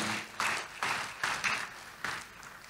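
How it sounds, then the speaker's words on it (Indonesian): Applause from a church congregation rises and falls in several broad, washing bursts. It is moderately quiet and heard without speech. "tepuk tangan buat Tuhan kita"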